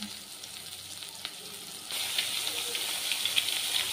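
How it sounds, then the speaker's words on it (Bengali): Salted, turmeric-rubbed rohu fish pieces frying in hot oil, a close, steady sizzle and hiss that grows noticeably louder partway through and continues without talk. "এবার মাছগুলো ভেজে নেবো।"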